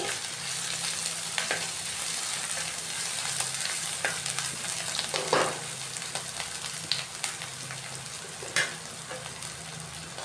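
Shredded cabbage with chopped garlic frying in a pan, a dense steady sizzle with occasional stirring scrapes and knocks of a utensil, close and alone.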